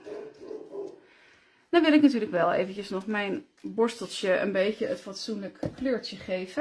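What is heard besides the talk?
neighbours' dog barking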